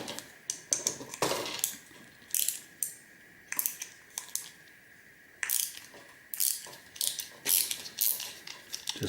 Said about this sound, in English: Let me see if I can get a screwdriver to this